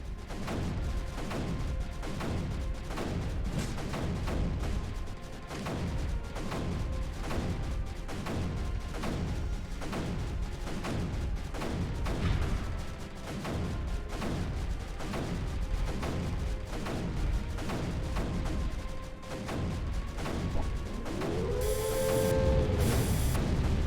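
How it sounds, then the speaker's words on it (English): Cannon artillery fire in the strategy video game Creeper World 3, a rapid, steady barrage of loud repeated shots pounding throughout, with a brief tonal game sound near the end. "Aim your cannons, Bertha."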